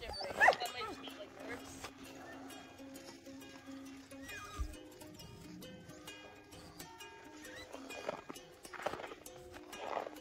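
Young puppies whimper and yip in short, scattered bursts, with footsteps and people talking over them at moderate distance.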